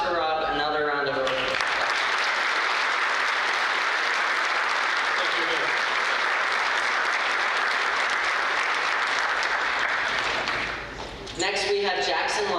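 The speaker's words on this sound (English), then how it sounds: "Please give Officer Rob another round of applause." Sustained audience applause fills a school auditorium at a National Honor Society induction in honor of a police officer, steady dense clapping for about ten seconds before it fades out and voices resume.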